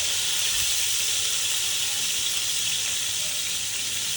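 Chicken for Afghani chicken sizzles and fries steadily in a pan, a continuous bright hiss of hot oil with no pauses, close and fairly loud throughout.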